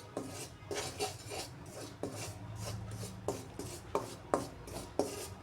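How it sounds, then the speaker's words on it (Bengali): Besan spice mix being fried in a pan, with rhythmic scraping and rasping of a utensil against the metal over a low background hiss. "ওই বেসন দেওয়া মশলাটা ভেজে নিচ্ছি।"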